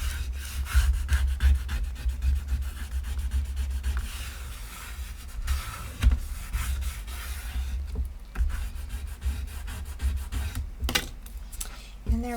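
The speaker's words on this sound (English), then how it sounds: "definitely go ahead and burnish that down" Paper being burnished down onto a wooden board for a Halloween photo wall hanging: a steady, close scraping rub with repeated strokes, under a low background hum and with no talking.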